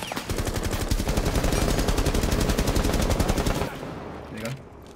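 Rapid automatic gunfire blasts loud and continuous in Rainbow Six Siege, a dense stream of close shots that cuts off near the end, leaving a fainter tail.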